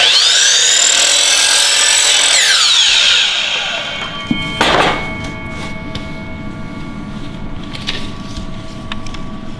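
A power saw whines loudly at full speed, then its pitch winds down before a short, sharp cut through a piece of base molding at a 22.5-degree angle. Faint clatter follows as it settles.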